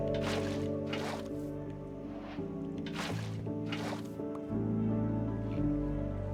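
A few soft water-placement whooshes from a bucket in Minecraft, building a waterway at a base, rise briefly over steady background game music.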